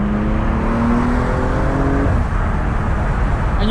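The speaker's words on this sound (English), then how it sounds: "And you can hear those turbos." A 2016 BMW M235i with its turbocharged engine accelerating onto a highway, a rising engine drone and turbo whir under heavy road and wind roar from inside the car, loud and continuous.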